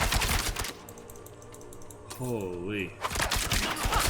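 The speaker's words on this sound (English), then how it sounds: "Little machine gun." Rapid bursts of machine gun fire in a video game, loud crackling volleys at the start and end with a short exclamation from a voice in the quieter middle.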